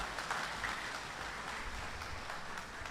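Applause at an investiture ceremony for a university official: a steady, faint wash of clapping from a crowd, continuous and distant throughout, with no talk over it.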